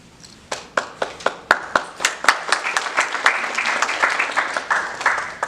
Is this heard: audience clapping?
yes